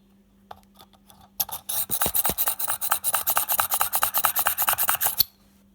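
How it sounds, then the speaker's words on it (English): Quick rhythmic rasping strokes of a hand-pumped push drill boring through polymer clay, a steady back-and-forth grinding, close and continuous for several seconds, with a faint low hum beneath. "I'm using a push drill, but a manual drill will work as well."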